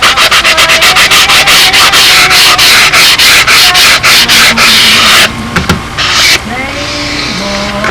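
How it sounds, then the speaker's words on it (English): A sanding block working the stabilizer and elevators of a Windy Typhoon model build, with loud, fast, rhythmic rubbing strokes at close range that stop after about five seconds, leaving quieter handling noise. "it's easy to just transition into a sanding block. Get the last little bit, sand it off. And you can even hear it."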